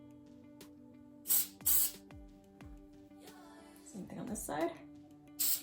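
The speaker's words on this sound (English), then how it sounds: "I'll spray on the ends." Hairspray sprays onto the ends of hair in short hissing bursts: two quick sprays, a pause with a brief spoken remark, then further spritzes, close and crisp.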